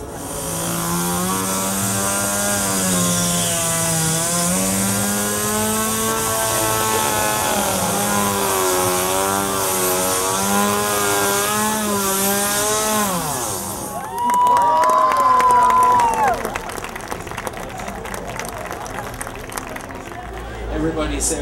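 A chainsaw engine runs loud and wavering for several seconds during a fair stage show, revving up and down, then drops off as a crowd bursts into cheering.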